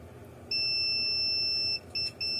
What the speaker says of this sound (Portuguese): Creio que dá para vocês ouvirem o bip.